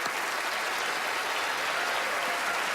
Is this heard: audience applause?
yes